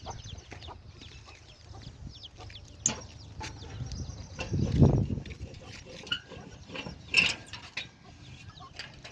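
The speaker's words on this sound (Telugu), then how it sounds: "ఇవైతే మా కోళ్ళు గైస్" Domestic chickens in a pen cluck intermittently over a low, steady background, with a couple of louder bursts rising in the middle and near the end.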